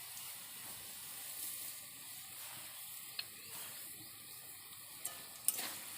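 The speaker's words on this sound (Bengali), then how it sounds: "এবার আমরা এটা কিছুক্ষণ ধরে ভেজে নেব।" Semolina tossed with already fried potato sizzles softly in a pan while being stirred, a steady low crackle with a few faint scrapes of the spoon.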